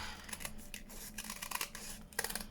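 Scissors cutting through the paper edge of a craft flip pad, a quiet run of close snipping and rustling that comes in several bursts, with no talking.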